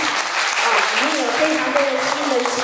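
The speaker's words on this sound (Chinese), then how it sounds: "那现在拜托大家帮我们热烈掌声" An audience gives warm applause at a public talk. Dense, even clapping fills the whole stretch, with a voice speaking over it.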